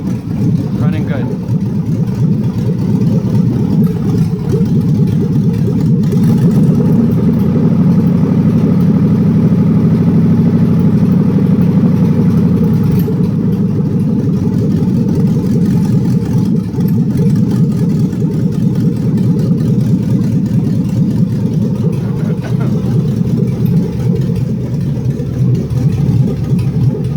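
A 6.2L L99 V8 idling at low RPM in a 1974 Chevrolet Nova; the loud, steady low rumble runs unbroken throughout, close to the engine.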